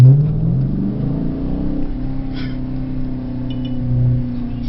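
A 2016 Dodge Challenger R/T with a Shaker hood accelerates while driving, its V8 engine droning loud and close with a rising rev, then a slight surge near the end, no talking.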